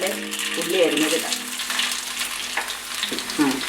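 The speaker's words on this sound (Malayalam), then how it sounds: "അതിൻ്റെ പിന്നാലെ ഉള്ളി അരിഞ്ഞതിടാം." Chopped onion tipped into hot oil with popped mustard seeds for a Kerala breadfruit curry, giving a steady close sizzle and frying crackle with stirring, while voice-like tones sit under it.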